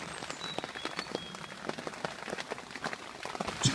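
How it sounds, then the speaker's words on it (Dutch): Light rain falling outdoors in a Limburg forest during wildlife watching, a soft scattered patter of drops with irregular small taps, fairly faint and with no talking. "In de regen."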